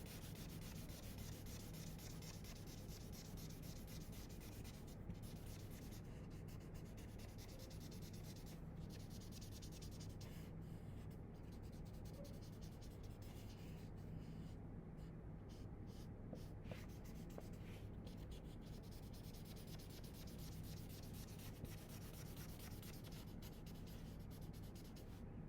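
A yellow colored pencil scratches and rubs across paper in steady back-and-forth strokes, heard close and quiet for a long stretch with brief pauses.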